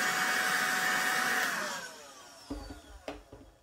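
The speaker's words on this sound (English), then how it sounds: "This is going to be so cool that I don't have to get out the big vacuum cleaner. I can just turn this on" A small handheld vacuum cleaner whines loudly, then winds down as it is switched off, followed by a few soft knocks and bumps.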